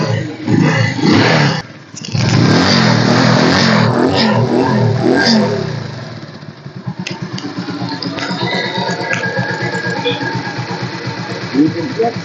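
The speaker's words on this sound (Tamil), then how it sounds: "இன்ஜின் வாங்க ஸ்டார்ட் பண்ணி காமிக்கிறேன்" A Bajaj Pulsar 180cc motorcycle at a second-hand bike dealer starts up with a loud burst, then settles into a steady, throaty idle with a few revs, close by and running alone without talk.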